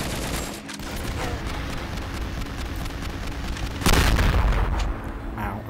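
Gunfire in the side-scrolling video game Cortex Command, a steady rattle of rapid shots with a loud explosive boom partway through, dense and continuous throughout.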